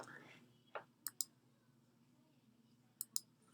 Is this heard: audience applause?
no